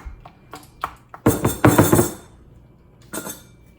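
Metal pot and utensils clink and clatter as smashed squash for a Haitian legume vegetable stew is moved back into the pot; a few light taps, then a dense burst of close, loud clanks, and a final clink.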